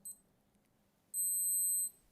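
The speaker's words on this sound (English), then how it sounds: "So it counts down and also beeps." A short electronic beep, then a longer sustained high-pitched beep from a G-Shock GBA-950 watch countdown timer, fairly faint against a quiet background.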